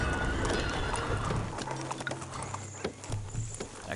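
Horses in a farm-management strategy game give a few whinnies over a soft, steady patter of hooves, with small clicks and interface blips scattered through a busy mix.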